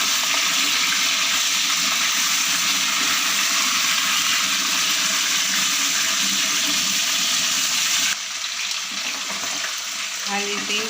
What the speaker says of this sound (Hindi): इसी ऑयल में आधा किलो मैंने चिकन लिया और उसको हमने फ्राई करना है